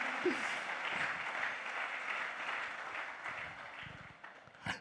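A church congregation applauds and cheers in praise, a continuous moderate wash of clapping and voices that fades slightly toward the end before a brief louder burst.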